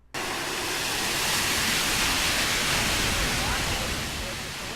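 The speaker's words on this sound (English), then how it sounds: "This is what happens when just a few ice cubes are dumped into the oil." A few ice cubes are dumped into hot turkey deep-frying oil, which erupts into a loud, sustained roaring hiss like rushing water. The noise holds steady for several seconds after a sudden start.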